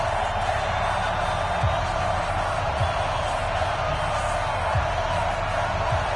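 Stadium crowd before a Cincinnati Bengals vs Pittsburgh Steelers NFL football game, a steady, dense roar of many voices filling the clip with a few louder thumps or shouts rising out of it.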